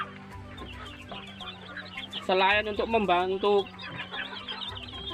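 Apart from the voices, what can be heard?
baby chicks clucking in a brooder box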